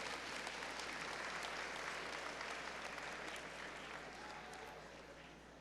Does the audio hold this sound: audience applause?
yes